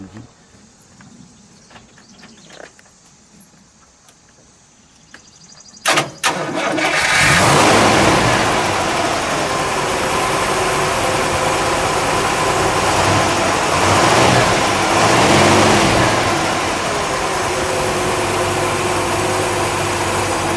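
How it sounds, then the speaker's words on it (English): Quiet clicks and faint talk, then a 1953 Buick Skylark convertible's engine cranks and fires up, revving before settling into a loud, steady idle that continues to the end. "Let me listen to that idle."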